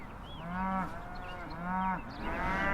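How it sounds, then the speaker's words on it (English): A cow that is unwell moos in two long, drawn-out calls, fairly close and alone with no talk. "I have a cow that's not feeling well"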